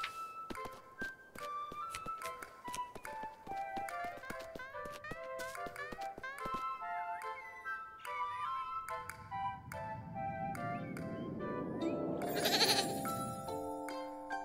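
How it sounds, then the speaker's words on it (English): A goat bleats in the video game Little Goody Two Shoes, with short bleating cries over tinkly game music and tapping sound effects, and a swelling rumble near the end. "What is that, a goat?"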